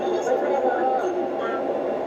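A moving subway train rumbles steadily throughout, a dense, constant interior drone with clatter, loud and close, with voices faintly mixed in.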